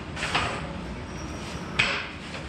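Two sharp hammer strikes about a second and a half apart ring out against a bolt on a John Deere 350 dozer, close by over a low steady background.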